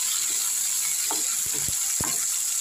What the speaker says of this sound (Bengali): আলুটা টমেটোটা আমি একটু ভালো করে ভেজে নেব